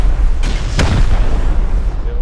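Rocket impacts against a sheet-metal base during a Rust raid: two sharp, heavy booms close together followed by a rumbling low decay, loud and near, with a voice speaking alongside.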